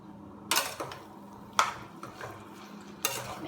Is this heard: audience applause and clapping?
no